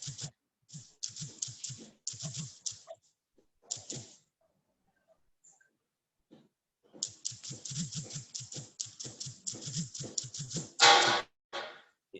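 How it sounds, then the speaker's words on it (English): Someone typing on a computer keyboard during an online business and investment seminar, with quick bursts of close, crisp key clicks separated by pauses and a louder clatter near the end. "Who is typing?"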